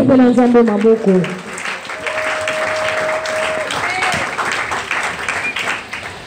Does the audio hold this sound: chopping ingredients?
no